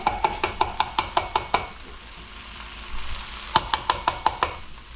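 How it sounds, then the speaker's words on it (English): Garlic frying in a pan with porgies: a soft sizzle broken by rapid rhythmic scraping strokes of a utensil against the pan, a quick run of strokes, a pause, then another burst. "let's add some garlic to this"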